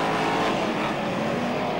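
BriSCA F1 stock cars race at Belle Vue, Kirkmanshulme Lane, with several engines roaring together in a steady, loud, continuous drone as a car powers out of a corner.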